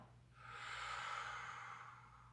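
A single long, airy exhale during a guided breathing exercise, close and soft, rising gently and then tapering away over about two seconds.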